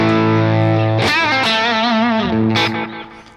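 An electric guitar plays sustained, shimmering notes drenched in heavy reverb and modulation, bending slightly before washing out and fading.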